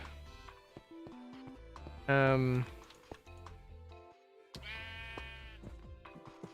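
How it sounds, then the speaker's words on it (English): A Minecraft sheep bleats on a survival multiplayer server, one loud wavering bleat, then a second softer one a few seconds later, with scattered keyboard clicks and a voice talking around them. "Ooh, sheep."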